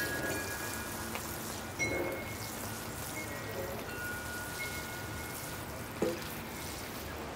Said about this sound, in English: Oh, it is starting to rain.